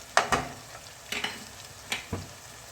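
Potatoes, tomatoes, red chili powder and turmeric fry in a pan for an aloo mirch curry, heard as quiet sizzling broken by several distinct scraping strokes of stirring at irregular intervals, with no speech.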